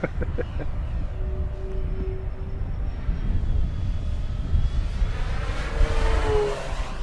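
Steady electric whine and propeller buzz from an FMS F7F Tigercat 1700mm RC plane with brushless outrunners and three-bladed 14x8 props, rising and falling in tone as it moves, over a broad rushing background.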